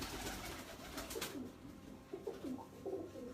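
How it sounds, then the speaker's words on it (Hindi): Pigeons at a pigeon-keeping loft, Aseel and Ferozpuri breeds, coo in a few soft, rounded, low calls with short gaps, against a steady background hiss; no talking. "अगर आपको अली वाले कबूतर मिल जाए और आपको फिरोजपुरी कबूतर मिल जाए"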